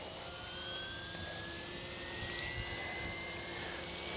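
An Airwolf RC helicopter spools up its rotor, giving a steady broadband whine with a slowly rising tone. It sounds continuous and moderately loud, with no talk over it.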